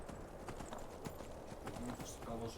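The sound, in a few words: horse hooves galloping in the video game Skyrim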